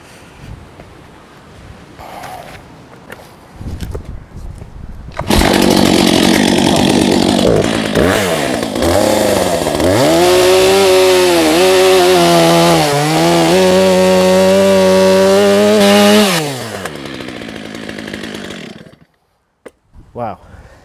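A Stihl chainsaw, either a 17-year-old MS390 or a new MS400.1 with a fresh chain, is pulled into life after a few quiet knocks, then roars loudly at high revs while cutting wood, the pitch dipping under load, before dying away.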